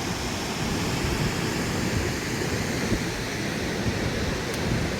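Ebor Falls waterfall in New South Wales, a constant broad roaring rush of falling water heard from a distance, steady and unbroken with no talking.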